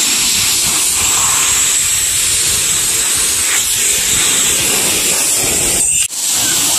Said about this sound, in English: Spray with soap.